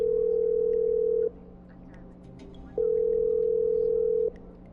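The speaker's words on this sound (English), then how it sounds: "I'm dialing. One moment." A telephone in the game Killer Frequency gives a steady ringback tone in two long bursts separated by a pause of low background hum.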